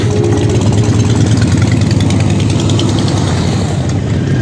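Many motorcycle engines idle together at a large bikers' gathering in Kuwait, a steady low rumble with a few faint revs rising above it, close and continuous with no talking.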